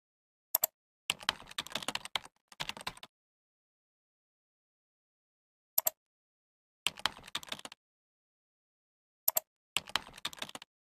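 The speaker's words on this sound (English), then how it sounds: "type the username and password for an account" Short bursts of computer keyboard typing, entering a username and password, come in separate clusters of rapid keystrokes with silent pauses between, close and clear with no talking.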